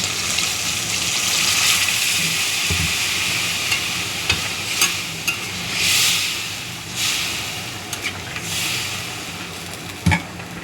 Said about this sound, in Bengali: মশলাটা আমার কষানো হয়ে গেছে। এখন দিয়ে দেবো সামান্য জল।